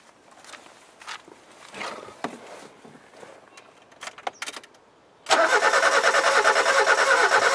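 A Mazda car being started: scattered clunks and shuffling footsteps, then the engine cranks and catches, settling into a loud, steady, close idle that continues to the end.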